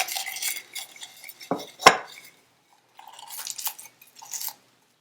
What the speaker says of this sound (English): So next we're gonna chop some garlic.